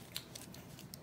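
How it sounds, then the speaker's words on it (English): Small scissors snipping the leads of vape coils on a Vandy Vape Pyro V3 RDTA, a few quick faint clicks in short succession, close up and quiet. "And then cut this one off and cut this one off"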